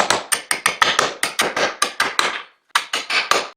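A hammer drives nails into wooden parts of a table saw tapering jig, a quick run of about a dozen sharp, close strikes, a short pause, then five more blows.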